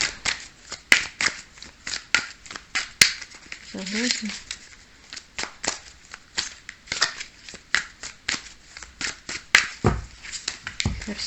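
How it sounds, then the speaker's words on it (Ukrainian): Playing cards are riffled and shuffled repeatedly, crisp papery bursts with sharp snaps between them, close up. "Давайте я зараз ще так сама достану карти"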